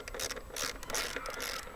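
A clamp is cinched tight on a wooden workbench joint during assembly, giving a series of close, quiet ratcheting and squeaky mechanical turns in irregular bursts, with no voices.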